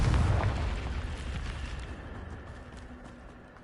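A Confringo fire spell blast in the Hogwarts Legacy video game bursts loudly at the start, then a rumbling decay fades out over several seconds, with no voices.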